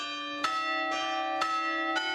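Church bells ring from the tower of Rouen Cathedral, four strong bell strikes at an even pace, each leaving a rich sustained ringing tone that carries over the whole passage.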